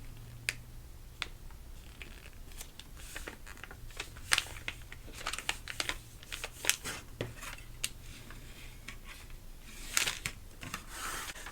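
Paper being scored along fold lines for a homemade gift bag, a run of quick dry scrapes and light ticks scattered irregularly over a quiet background, close and soft, with no voices.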